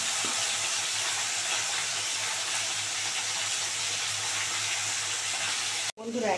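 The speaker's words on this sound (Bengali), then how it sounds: "তেল গরম হয়ে গেছে, এবার মাছগুলো খুব ভালো করে ভেজে নেব" Three large desi kei fish sizzle in hot oil in a pan, a steady, loud, bright frying hiss that runs without a break, then cuts out sharply near the end.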